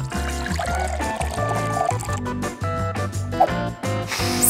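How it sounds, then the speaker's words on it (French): Boiling water pours into a glass holding chocolate pieces, a continuous close stream whose gurgling pitch rises as the glass fills, running loud and steady with no speech. "Les morceaux de chocolat sont déjà dans le verre. Il ne me reste plus qu'à ajouter de l'eau bouillante."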